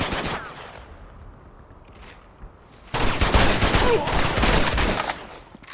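Gunfire in the action-adventure video game Uncharted 2: Among Thieves breaks out after a quieter stretch, loud rapid bursts of shots filling the last few seconds, with a brief exclamation.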